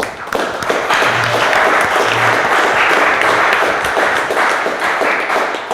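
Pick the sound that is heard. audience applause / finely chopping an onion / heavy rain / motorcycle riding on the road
audience applause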